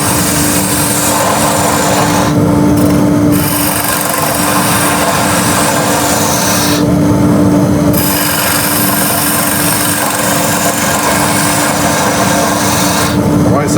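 Bowl gouge making a concave cut inside a wooden vase spinning on a lathe, a loud, continuous scraping rasp over the steady hum of the lathe, with brief lighter moments as the cut eases.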